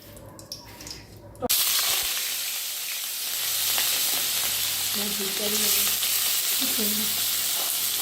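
Whole garam masala and four cardamom pods hit hot oil in a kadai with a sudden loud sizzle that keeps crackling and hissing steadily, with faint stirring sounds underneath.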